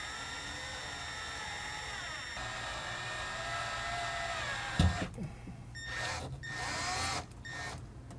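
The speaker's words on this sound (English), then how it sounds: "We can go ahead and drill our hole from the bottom to the top with the 1/8" drill bit." Power drill with a 1/8-inch bit boring a pilot hole from below while fitting a Go Rhino SRM500 roof rack to a 2022 Jeep Wrangler, a high whirring drone with a sharp bump midway, then bursts of whining as the bit cuts, no talk.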